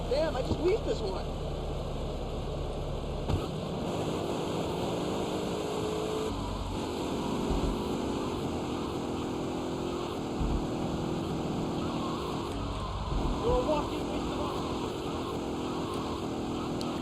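Car driving in GTA Vice City, a steady engine drone heard throughout with shifting tonal lines, under game music and someone talking.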